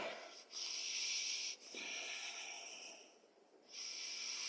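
Slow, deep breaths during a yoga session come through as airy hissing, with long inhales and exhales separated by brief pauses, close and fairly quiet, with no talking.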